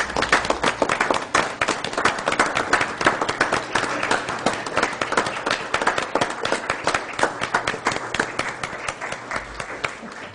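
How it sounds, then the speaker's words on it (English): Hearty, continuous applause fills a city council meeting room as a standing crowd honors a resident, dense clapping held steady for ten seconds, fairly close and loud. "give Jesse Walker a round of applause"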